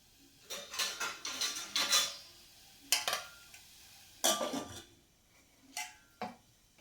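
A lid goes onto a pot of bitter gourd boiling on a low flame, giving a close run of light metallic clinks and clatters with short pauses between them and no voices.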